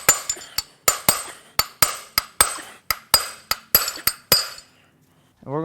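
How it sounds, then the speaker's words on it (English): Sharp metallic hammer blows striking a piston in a Ford Powerstroke diesel engine during a teardown, about sixteen loud ringing hits in a steady rhythm, then a pause. "I got to hit the piston up a little"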